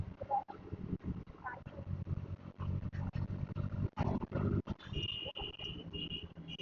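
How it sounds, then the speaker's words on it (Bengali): An NS125 motorcycle ridden on the road in Howrah, its engine drone blending with rushing wind buffeting the microphone, steady and close throughout with a few brief dips. "দেখা যাক কতটা আওয়াজ আছে বাইকের এবং হাওয়ার"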